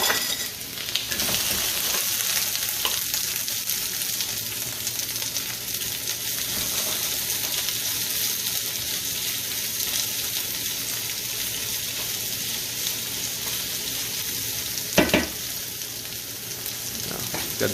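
Onions and zucchini fry in olive oil in a pan for a frittata, giving a continuous loud sizzle with a sharp clatter near the end.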